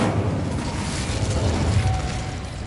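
Incendio fire spell cast in Hogwarts Legacy: a steady, dense roaring whoosh of flame that stays loud and close for nearly three seconds, with no voices.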